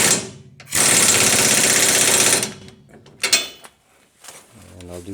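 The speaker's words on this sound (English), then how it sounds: "next I'll be tightening this bottom bolt right here that attaches the bracket from the other side" Power impact tool tightening a 19 mm bolt on a class 5 trailer hitch bracket under a GMC/Chevrolet 2500 pickup, one loud rattling burst of about two seconds followed by short clanks and a few spoken words.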